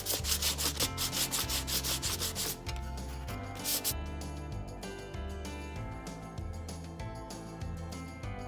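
Sandpaper rubbed back and forth over a chippy painted thrift-store furniture piece, close and steady, with rhythmic scraping strokes over a low repeating background hum.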